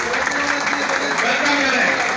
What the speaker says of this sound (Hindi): भरपूर तालियों के साथ इनका वेलकम करें